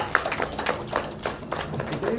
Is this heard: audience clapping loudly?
yes